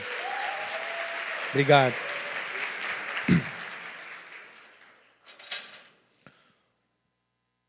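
Applause from a church congregation swells and holds for several seconds, then fades out while someone briefly speaks.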